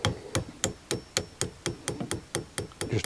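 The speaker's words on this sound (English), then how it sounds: "Just a gentle tap with a hammer." Light hammer taps seating a small part into an air rifle: about a dozen sharp, evenly spaced knocks in quick succession, close and fairly loud.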